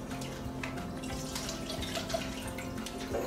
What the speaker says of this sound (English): the rest of this juice I'm just gonna pour